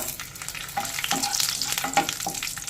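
Raisins fry in a pan with whole spices like mace, cardamom, cinnamon and cloves for saffron pulao, a close bubbling sizzle broken by scraping stirs and a few light clicks of the spoon.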